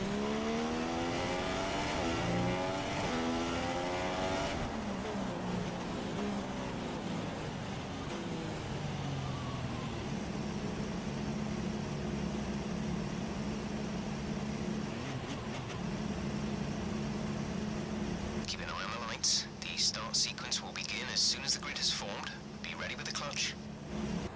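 F1 2016 race cars sit at the start of a grand prix in a racing video game, engines revving in rising and falling whines before the launch, under steady commentary.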